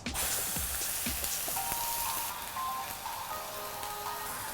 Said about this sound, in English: so now I can start frying.